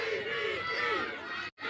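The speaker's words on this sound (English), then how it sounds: "You can hear the TVC crowd trying to bring their team home." A women's rugby final crowd for Tikirau Victory Club roars and chants continuously at a loud, steady level, with voices blending into a dense wall of sound before a brief sudden dropout near the end.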